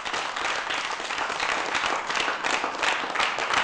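A crowd applauds a quiz game winner as a certificate and a computer are handed over, steady dense clapping at even strength throughout with no talking.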